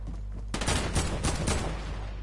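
Burst of rapid gunfire in a video game, a sudden dense volley of shots starting abruptly and continuing at moderate volume for under two seconds.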